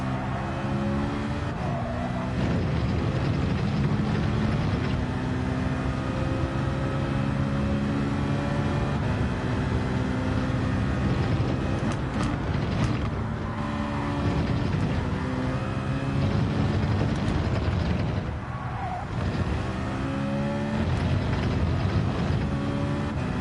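A turbocharged race car engine in a racing video game revs up and down repeatedly, loud and close, with whooshing turbo spool and rising and falling gear changes throughout.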